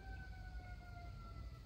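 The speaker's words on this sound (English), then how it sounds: "there's an ambulance in the background" An ambulance siren wails in the distance as a steady held tone, faint and continuous behind low rumbling background noise.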